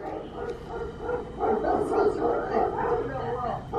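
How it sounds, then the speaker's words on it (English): Several dogs bark and yip in a jumbled chorus, moderately close and fairly continuous over a few seconds. "Hear those wonderful dogs."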